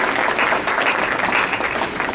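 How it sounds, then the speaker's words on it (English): A crowd applauds steadily at a benefit dinner, a dense wash of clapping that holds at an even level for a couple of seconds. "Big round of applause for Dr. Ahmed."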